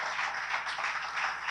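A church congregation claps in welcome, a dense, steady wash of applause that swells slightly in waves, heard alone without talk.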